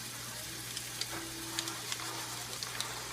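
Ground beef frying in a pan gives a steady sizzle, with scattered crackles and pops as it is stirred; no one talks.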